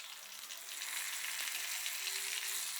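Beer-battered fish frying in hot oil: a steady, close hiss and crackle of bubbling oil that grows slightly louder as the fish goes back in, with no talk over it.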